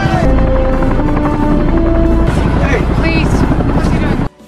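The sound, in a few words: helicopter arriving, from film Dawn of the Dead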